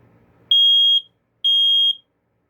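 A First Alert 7010B hardwired photoelectric smoke detector sounds its test alarm: two loud, piercing electronic beeps, each about half a second long, separated by a short silent gap.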